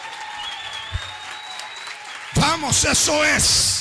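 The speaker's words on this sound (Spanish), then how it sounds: "Si ese es tu mejor aplauso, no hay problema." Church congregation breaks into loud sustained applause at an anniversary closing service, following a quiet stretch with a faint held tone; a voice speaks briefly before the clapping and over it.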